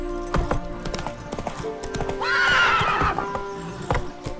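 Roach the horse from The Witcher 3 gallops with quick, close hoofbeats, then lets out a loud, drawn-out neigh midway before the hooves carry on.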